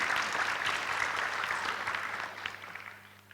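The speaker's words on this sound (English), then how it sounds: "Can we give them a hand" Audience applause at a Penang economic summit session on manufacturing: a steady wash of many hands clapping at once, fairly loud, then thinning and fading toward the end.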